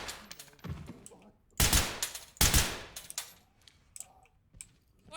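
Gunfire in the tactical shooter game Ready or Not, several sharp loud shots in irregular bursts with quieter clicks and brief voice fragments between them.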